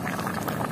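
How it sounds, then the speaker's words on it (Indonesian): Fish stew with sambal, made with marlin, boils in a pot outdoors, a continuous bubbling, seething burble that is fairly loud and close, with no speech. "kita tunggu sampai mendidih"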